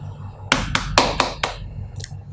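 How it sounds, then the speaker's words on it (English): Knuckles rap on a wall in a quick uneven series of about five sharp knocks, close and fairly loud, followed by a fainter tap near the end, with no talking. "This is the sound of the wall."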